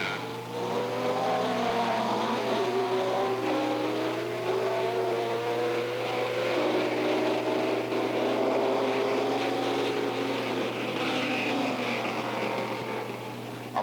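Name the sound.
racing car driving into the pits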